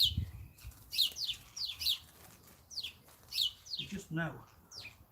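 Wild birds chirp close by over freshly seeded ground where a shed once stood: a run of quick, bright chirps in short bursts while someone talks quietly.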